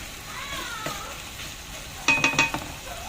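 Eggplant is stirred in a pan with light soy sauce, a soft sizzle running under faint background sounds, then a quick cluster of three or four sharp utensil scrapes and clinks against the pan near the end.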